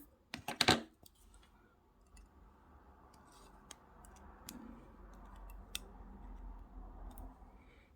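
Jewelry wire snipped with cutters while finishing a wire-wrapped square stone pendant: a quick cluster of sharp clicks near the start, then faint handling noise and a few soft ticks against a quiet room.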